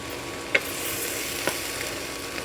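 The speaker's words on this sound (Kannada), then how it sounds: "ಇವಾಗ ಪರಂಗಿಕಾಯಿನ ಹಾಕೋತೀನಿ" Papaya pieces are stirred in a frying pan with a steady, close sizzle, broken by two sharp knocks of the spatula against the pan.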